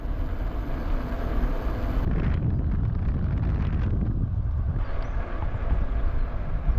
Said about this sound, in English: as you can probably hear, it's still quite windy